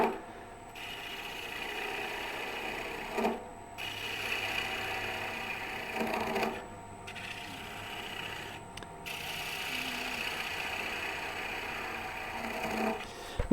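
A wood lathe gouge cuts undercuts into the base of a turned wood bowl, a steady close scraping hum broken by three or four short pauses between passes.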